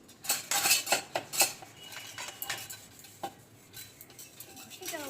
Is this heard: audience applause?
no